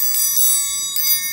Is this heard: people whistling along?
no